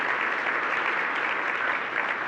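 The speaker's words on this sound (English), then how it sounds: "Let's give him a round of applause for everything that he's done" Applause for Robert at the 2018 Bay County Chamber Dinner, a dense, even patter of many hands clapping in a large room, steady and moderately loud throughout.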